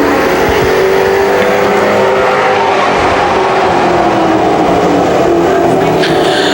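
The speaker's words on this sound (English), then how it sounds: "He'll pound the throttle off turn number" A pro street stock race car roars hard on the throttle at a speedway oval, its loud, continuous engine drone rising out of the turn with crowd and track ambience beneath, no voices.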